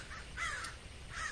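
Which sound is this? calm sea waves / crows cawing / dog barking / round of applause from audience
crows cawing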